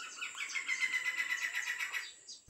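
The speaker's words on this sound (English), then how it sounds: "a rare brown bird sings" A rare Nicobar megapode, a brown bird, calls in shoreline rainforest on the Andaman and Nicobar archipelago, giving a run of rapid, repeated chirping notes for about two seconds, clear and fairly near over a quiet background.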